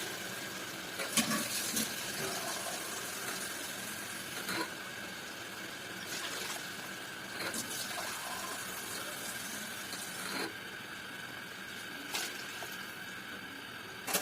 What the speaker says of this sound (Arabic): هنزل يا بنات بقى بالميه